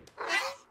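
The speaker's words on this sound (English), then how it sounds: "Dog meows at you as if asking if you're alright." A single short cat meow from the cat character Dog in the video game New World, brief and mid-loud with no talk.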